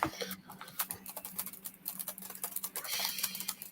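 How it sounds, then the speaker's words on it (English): Someone types on a keyboard over an open microphone, a rapid, uneven patter of soft key clicks running continuously at moderate volume against a faint steady hum. "Somebody typing, you gotta mute yourself"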